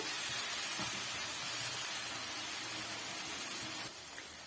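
Onions sauté in a pan for a Tamil onion thokku, giving a steady, dense sizzling hiss that runs unbroken and close throughout, easing slightly near the end.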